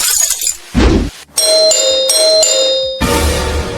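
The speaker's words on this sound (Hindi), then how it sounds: "डोरबेल क्यों बजाया?" Cartoon doorbell chimes ring out in a two-tone ding-dong pattern, sounding three times in quick succession with bright, sustained tones, bracketed by brief noisy thumps in an animated Hindi horror crime story.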